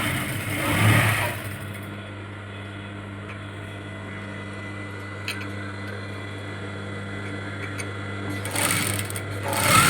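Sewing machine running steadily while stitching a blouse, a continuous close mechanical whir for nearly ten seconds with slightly louder rustling at the start and finish.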